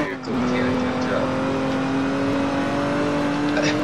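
A vehicle engine in the Roblox video game hums steadily with a sustained tonal whine as the car flees SWAT, held level and fairly loud under faint background noise.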